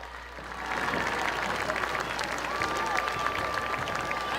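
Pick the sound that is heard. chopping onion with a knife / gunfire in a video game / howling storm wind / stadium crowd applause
stadium crowd applause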